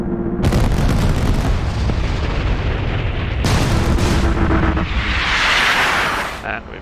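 Aircraft gun pods fire on an SK60 jet in DCS, loud sustained bursts of rapid cannon fire in long stretches with brief gaps, a voice speaking under the noise.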